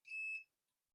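A single short, high electronic beep from an Ameritron RCS-8V remote coax switch, clean and steady, followed by silence.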